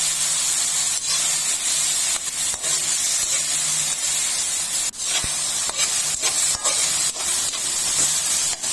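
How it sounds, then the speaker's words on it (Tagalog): Ground meat sautéing in oil in a pan with garlic gives a steady loud hissing sizzle, broken by clinks and scraping stirs of a utensil, close and continuous without talk. "Gisahin lang natin ng mabuti para lumabas yung kanyang mantika."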